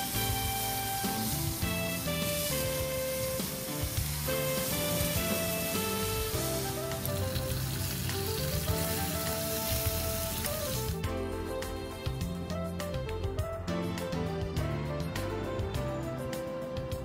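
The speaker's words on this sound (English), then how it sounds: "Let the ribs cook on medium heat about 1 hour, about 30 minutes on each side, until no pink meat remains." Pork ribs in a lemongrass marinade sizzle on medium heat over an outdoor cooking fire, giving a dense, steady crackling hiss that runs unbroken and fairly close throughout, with no voices.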